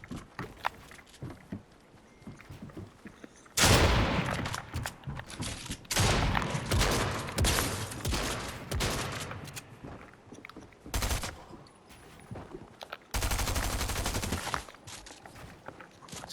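A Ranger assault rifle fires in Fortnite Chapter 3 in loud, close bursts of rapid automatic shots, broken by short pauses and quieter stretches of footsteps and game noise between volleys.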